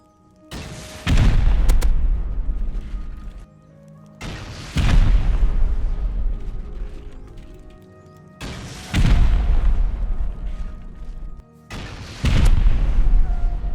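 Four loud booming explosions from the video game Rust, each a sharp broadband blast followed by a rumbling decay, spaced a few seconds apart with no talking.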